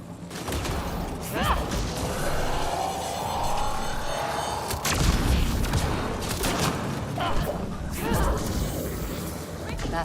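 Gunfire in the Mass Effect Andromeda video game, a busy stretch of repeated shots and crashing impacts over a mechanical game soundscape, with a voice talking over part of it.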